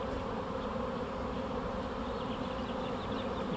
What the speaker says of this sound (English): This will be a pretty good sized swarm. They're lighting on me, lighting on my hat, my arms, my shirt.